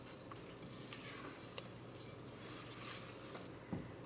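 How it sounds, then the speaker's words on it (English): Rinsed rice and salt being stirred in a pot, a soft continuous scraping and rustling with faint sizzle underneath, steady and close with no talk. "I'm going to give that a stir first."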